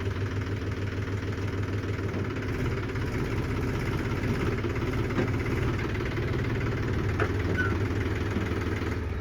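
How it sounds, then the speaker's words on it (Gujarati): Tractor engine reversing, a steady close diesel chug with low knocking throb running unbroken throughout, with no voices. "રિવર્સ લાગે છે ટ્રેક્ટર."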